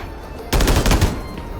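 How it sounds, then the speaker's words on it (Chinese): A rapid burst of automatic gunfire in the mobile shooter Peacekeeper Elite's metro escape mode starts suddenly and rattles loudly for about half a second, then fades to a dull background hum. "刚好脚下就有枪声"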